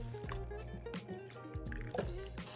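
Tequila poured into a drink with sparkling water, a close, quiet glug and trickle of liquid with soft drips and splashes against the glass, no voices.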